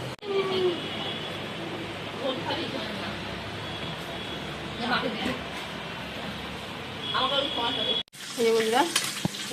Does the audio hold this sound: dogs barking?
no